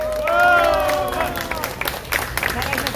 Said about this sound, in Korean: 아르투시 애국동지 신임 김병태 회장님께 다시 한번 박수 부탁드립니다.